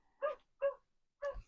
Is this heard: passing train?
no